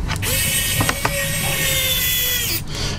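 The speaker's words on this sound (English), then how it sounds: "It's even using something like a little electric screwdriver like this." A small electric screwdriver drives a screw into a Medion digital notepad during a teardown, a steady close whirring hum that runs for about two seconds with a couple of brief clicks near the start.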